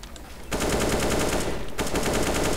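Rapid automatic gunfire bursts out after a short quiet start, continuous and loud with a brief gap before resuming, sounding like video game weapons.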